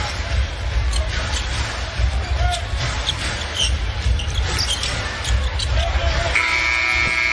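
A basketball bounces amid arena crowd noise at an NBA game between the Houston Rockets and Brooklyn Nets, then a long shot clock buzzer sounds loudly near the end.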